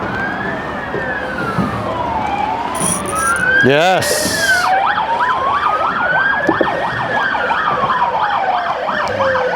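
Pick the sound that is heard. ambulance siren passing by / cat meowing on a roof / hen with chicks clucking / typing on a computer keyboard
ambulance siren passing by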